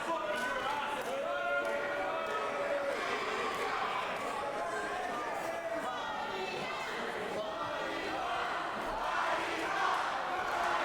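A partisan wrestling crowd at the Goodwood Community Centre during a live show, shouting and chanting in a reverberant hall, steady and fairly distant, with voices talking over it.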